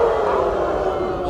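A crowd of audience members imitates dog howls together at a live fan event, a loud, sustained, overlapping wail of many voices holding a steady mournful pitch throughout.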